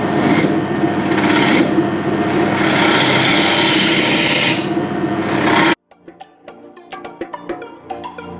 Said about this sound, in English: I'll cut a mortise and I'll start to bring the shape around.